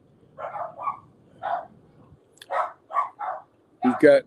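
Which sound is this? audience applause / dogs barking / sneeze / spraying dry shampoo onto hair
dogs barking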